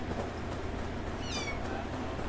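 A cat meows once, a short rising-falling call heard faintly over a steady low background hum, with no talking.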